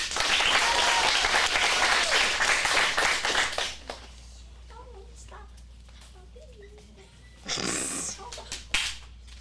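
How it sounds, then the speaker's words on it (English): Audience applause follows a teen acting showcase scene at a Phoenix acting studio: dense clapping fills the first four seconds, then dies away into quiet talk, with a brief loud burst of noise near the end. "Let's get a round of applause."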